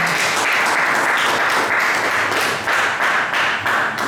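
A church congregation at a French-language worship service applauds and acclaims the Lord with loud, sustained, dense clapping from many hands that runs steadily throughout.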